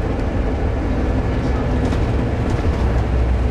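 The engine of a Urbino 15 bus growls steadily from inside the cabin while riding, with a continuous low rumble and road noise and no clear pauses.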